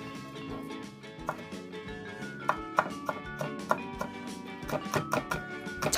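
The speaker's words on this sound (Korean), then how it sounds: "쪽파 한 줌을 무말랭이 길이로 썰어줍니다" A knife chops a handful of Korean green onions (jjokpa) into 3–4 cm lengths on a cutting board for a seasoned dried-radish side dish, with crisp, irregular taps over steady background music.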